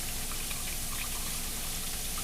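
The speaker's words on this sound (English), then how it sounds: "we're gonna put more filtered water into it" Filtered water poured into a cooking pot for meatballs and noodles: a steady, unbroken splashing stream, close and fairly loud, with no voices.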